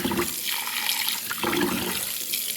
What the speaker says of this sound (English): Next thing we're going to do is wash our rice.